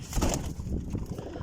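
Pigeons coo softly in a loft, low murmuring calls repeating in a faint, close-up burble with a little rustling.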